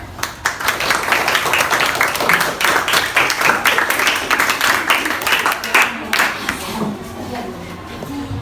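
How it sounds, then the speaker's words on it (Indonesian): Applause from a classroom of teachers and students welcoming a presenting group, many hands clapping steadily for several seconds before tapering off, with some voices mixed in. "mari kita beri tepuk tangan untuk kelompok yang akan menyajikan"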